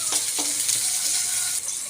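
Onion and ginger sauté in a hot pan for chicken feet adobo, giving a brief, bright sizzling hiss with a couple of soft stirring scrapes near the start.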